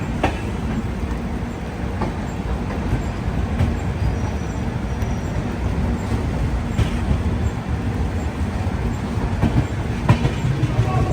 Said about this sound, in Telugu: మనం అయితే ఉద్నా జంక్షన్ నుంచి బయలుదేరిపోతున్నాం